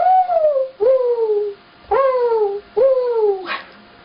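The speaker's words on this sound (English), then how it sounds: "Mourning dove." Mourning dove calls alone: four clear, mournful cooing notes, each sliding up then gently falling, spaced about a second apart and close to the listener.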